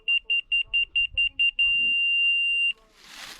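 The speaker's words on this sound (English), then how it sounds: "Once it beeps like that" A locating beeper set on the corner of a drain form gives a quick run of short, evenly spaced electronic beeps, then one long sustained tone, loud and close, followed by a brief burst of hiss.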